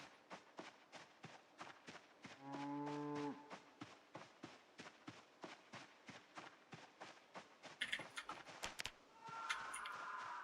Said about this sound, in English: But where is that cow?